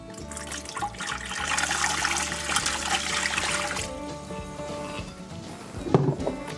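Water pours into a stand mixer bowl for bread dough, a steady trickling splash running for several seconds close up before tapering off, followed by a short clunk.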